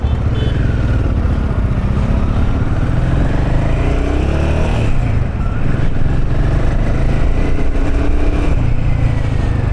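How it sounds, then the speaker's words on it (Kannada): A new Royal Enfield Himalayan 450 motorcycle engine runs steadily up close, a smooth continuous rumble with a gentle rise in revs partway through. "ಹೊಸ ಇಂಜಿನ್ ಆಗಿರೋದ್ರಿಂದ ನಮಗೆ ಡಿಫ್ರೆಂಟ್ ಸೌಂಡ್ ಇದೆ"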